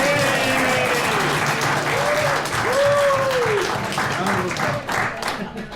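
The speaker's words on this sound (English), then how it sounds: "you can give her another round of applause" A roomful of people gives a sustained round of applause at a council communications meeting, steady and fairly loud throughout, with a few tonal whoops or voices rising over the clapping.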